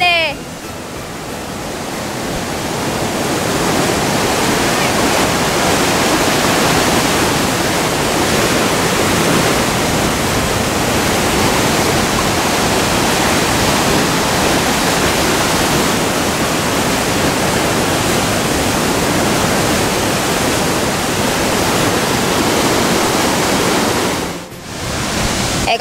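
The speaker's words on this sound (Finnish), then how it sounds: "kattokaapa, kuinka iso koski tässä mennee." Roaring of a large river rapids in Kuusamo, Finland, a steady dense broadband rush close by that fills nearly the whole stretch, cutting off briefly near the end.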